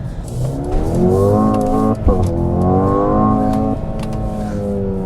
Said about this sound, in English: it will just run up to fuel cut and sit there.